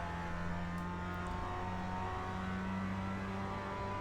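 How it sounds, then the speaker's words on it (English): Mazda MX-5 Cup car engine in the iRacing sim, a steady, continuous mid-pitched drone holding at an even level with no talk over it. "Car is perfectly fine chugging along. It's the tank of the Mazda Cup cars,"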